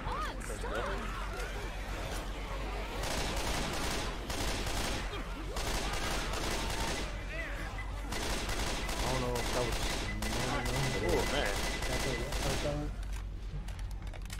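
Near-continuous gunfire in Left 4 Dead, rapid bursts of shots and automatic fire going on throughout, with people talking over the shooting.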